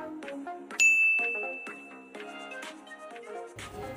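A bright notification bell sound effect rings once with a sharp, sustained ding that slowly fades, set among light chiming tones and soft tinkles.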